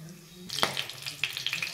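Whole spices (cumin seeds, bay leaf, cinnamon, cloves, cardamom) dropped into hot oil, a sudden crackling sizzle with small pops that continues for a second or so.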